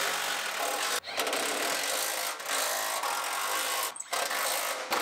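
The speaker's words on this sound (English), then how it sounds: "Tighten it all down after we started all our bolts." A power tool tightens bolts on a bumper reinforcement during the rebuild of a Lincoln MKT. A loud, continuous whirring runs with brief dips, close by, and there is no talking.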